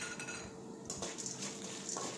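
A utensil stirring salt and ingredients together in a cooking pan for Tamil-style murungai keerai poriyal, giving quiet repeated scrapes and light metallic clinks, close and steady with no talk.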